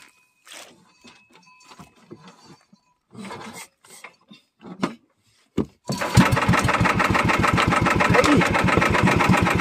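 A fishing boat engine turning over and catching, then running with a rapid, loud mechanical chugging that takes over after scattered handling noises and a brief spoken word.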